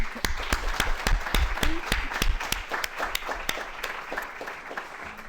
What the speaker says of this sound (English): please join me in just giving them a round of applause